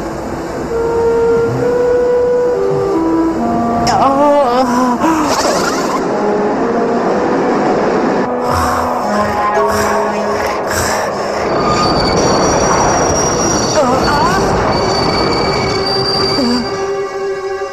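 Subway train cars rolling through a tunnel, wheels squealing loudly and repeatedly against the rails over a steady rumble, close and continuous throughout.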